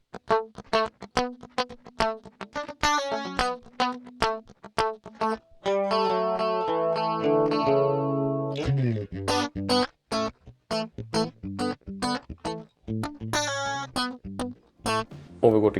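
An electric guitar runs through an MXR Rockman X100 pedal on a bright 80s clean tone, playing plucked notes and chords with choppy muted rhythm and a sustained chord passage in the middle.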